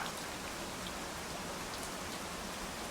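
Steady rain falls in a dense, even hiss of many drops, soft and continuous with no voices or thunder.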